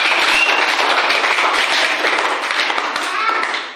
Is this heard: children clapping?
yes